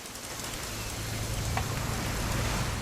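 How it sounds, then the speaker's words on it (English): Steady rain falling in the video game What Remains of Edith Finch, an even, continuous hiss of drops on surfaces with a faint low hum beneath and no talking. "It's gonna rain the whole weekend"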